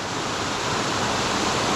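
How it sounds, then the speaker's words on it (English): Water spills over a stone weir built like cobblestones, producing a steady, loud, close rushing roar with no pauses and no voices. "your main shot is just here, where the water goes over the weir"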